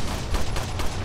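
Rapid gunfire rattles in Resident Evil 4, with several quick shots closely spaced across a dense, loud burst of game combat sound.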